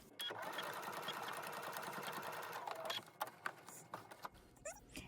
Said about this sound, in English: all I'm going to do is roll this over and edge stitch.